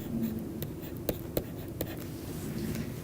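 Pen or marker writing engineering equations on a board, a steady scratchy stroke texture with a few sharp taps as strokes begin, close and without talk.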